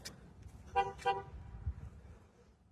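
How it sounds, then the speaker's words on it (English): Cars on a road through an otherwise quiet landscape: two short car-horn toots close together, heard faint and distant over a low traffic rumble that slowly fades. "If it wasn't for the dang cars, the noise is zilch."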